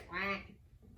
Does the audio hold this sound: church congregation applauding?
no